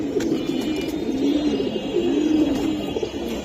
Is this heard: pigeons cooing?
yes